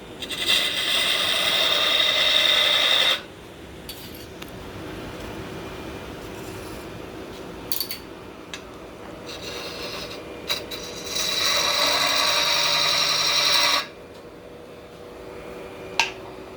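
A woodturning lathe, spinning a box blank with tenons, runs slowed to about 500 RPM as a steady, quieter motor hum between louder bursts of cutting and scraping at the start and near the end.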